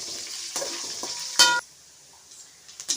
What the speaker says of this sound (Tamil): பெருவெங்காயம் 2 எடுத்துக்கிறேன், அதுவும் போட்டுக்கலாம். இது நல்லா வணக்கலாம்.